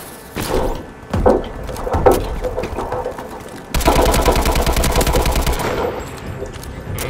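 Video game gunfire in Call of Duty Advanced Warfare, a few loud single shots at first, then a long sustained rapid burst of automatic fire, close and loud.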